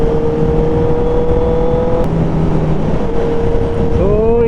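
A Honda CBR650F superbike's exhaust drones steadily while riding on a long road trip, a loud smooth engine tone that holds pitch, dips briefly, then climbs as the rider revs near the end.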